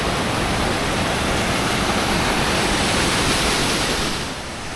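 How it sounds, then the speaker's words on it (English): A waterfall near Aguas Calientes, Peru, roars as a steady, dense, close rush of falling water that holds constant before easing slightly at the very end. "All right, waterfall number two."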